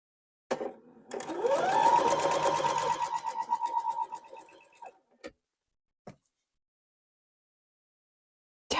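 A sewing machine stitches across fabric corners for a quilt block, running in one steady rapid burst of a few seconds before slowing to a stop, followed by a few isolated clicks, with no talking.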